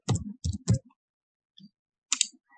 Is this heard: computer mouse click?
yes